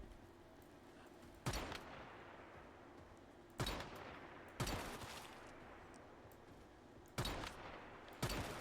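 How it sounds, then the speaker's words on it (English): Gunfire in the video game Once Human: five loud, sharp shots spaced a second or more apart, each a sudden crack that trails off over steady background noise, with no talking. "Ooh, somebody's shooting back now."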